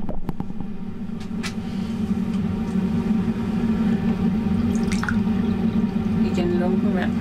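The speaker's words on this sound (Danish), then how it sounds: "Så jeg fylder lige vand i." Lukewarm water poured into the water tray of a Real49 chicken incubator, a close trickling and dripping under a steady low hum, while someone talks over it.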